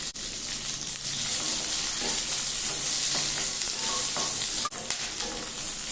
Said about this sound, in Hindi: इसी ऑयल में प्याज भी फ्राई कर ले रहे हैं।